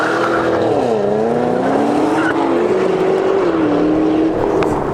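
A Cadillac CTS-V's engine heard from outside roars loud and close, revving and shifting in pitch as the car drives past on a race track.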